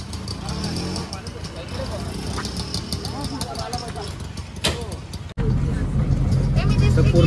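An auto rickshaw engine idles and rumbles near a station, running steadily under people talking and growing louder and heavier in the final seconds.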